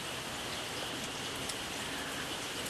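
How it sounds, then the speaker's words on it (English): Steady, even rain falls on surfaces nearby, a dense continuous hiss with no pauses or other sounds. "Anyways, it's raining and I can't cope when it rains."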